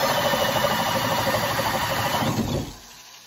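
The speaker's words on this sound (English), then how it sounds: "2-inch tenon bit already on my drill" A handheld drill fitted with a 2-inch tenon bit bores into a log, giving a loud, continuous grinding whir that stops abruptly near the end and leaves a quiet tail.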